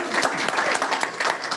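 A student audience at a final pitch event cheers and applauds, a dense, bright wash of clapping and shouts that stays loud and constant throughout.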